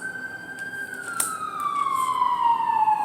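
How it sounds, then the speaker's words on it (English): A wailing siren sweeps slowly downward in pitch, loud and steady, with a faint click partway through and traffic rumble beneath. "You hear the sirens."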